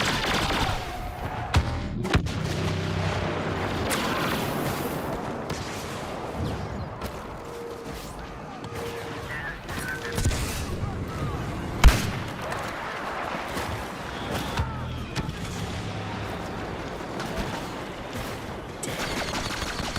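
Dense, sustained video-game gunfire with bursts of automatic shots and heavy blasts, ending in an orbital strike during a live-streamed match; loud, continuous, with one sharp crack standing out midway.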